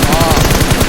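Rapid bursts of automatic gunfire from a battle royale video game during a PS League grand final esports match, loud and continuous, with commentary voices faintly underneath.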